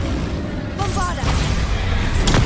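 The Bombarda spell in Hogwarts Legacy sets off a heavy explosion during a fight with a troll, a loud booming crash that rises midway and keeps rumbling, mixed with shouting voices and combat noise.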